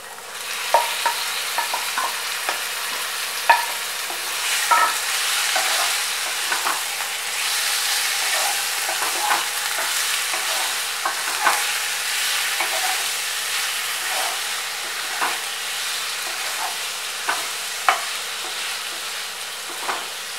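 Chicken marinated for an hour fries with browned onions for a restaurant-style pepper chicken fry, a steady close sizzle with frequent scraping and clicking of a spatula stirring the pan throughout, no talking.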